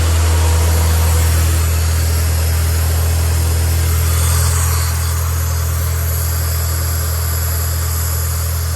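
A Honda K20 engine in an Integra Type R idles steadily with a new throttle body fitted, giving a continuous low rumble close by that stays even throughout, with a slight shift in tone midway and no talking.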